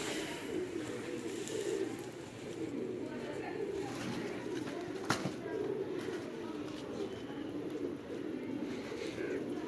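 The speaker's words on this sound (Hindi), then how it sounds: "फाइनली जिन कबूतरों को लोग ढूंढते हैं उनकी तरफ हम आ गए।" Soft, low pigeon cooing in Lahore murmurs steadily through a busy outdoor background, with a brief sharp knock midway.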